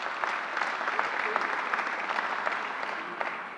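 An audience at a government COVID vaccination briefing applauds, a dense, steady burst of clapping that holds evenly for a few seconds.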